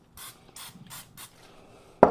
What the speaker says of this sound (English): I'm going to hit that just a light bit of this butter spray.